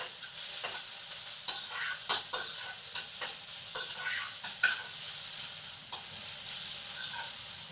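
Bottle gourd barfi mixture with almond powder, sugar and cardamom stirred in a pan, a spoon scraping in intermittent strokes over a soft, steady sizzle, close with no voices.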